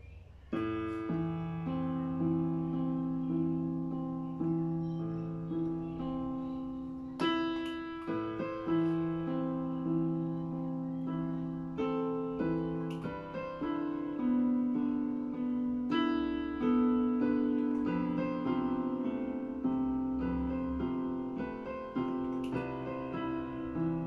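Gentle guitar chords played as a slow ballad accompaniment, sustained and evenly strummed, steady and moderately soft.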